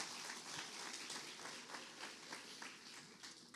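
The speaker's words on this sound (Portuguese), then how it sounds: "Você pode dar um aplauso ao Senhor" A church congregation applauds, a steady wash of many hands clapping at a distance, even and unbroken throughout.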